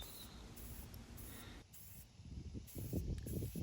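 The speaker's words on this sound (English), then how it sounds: "I grabbed my flat black primer and started spraying the roof rack" Steady hissing spray from an aerosol can of flat black primer onto a roof rack, with a brief pause before a louder, rougher burst of spraying.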